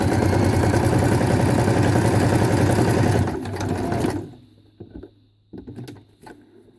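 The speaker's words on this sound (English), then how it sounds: "You clip them all together with your fabric, then sew them all at once." Sewing machine stitching cash register receipt notepads clipped together with fabric, a loud close continuous whirring run that slows and stops after about four seconds, followed by a few soft handling clicks.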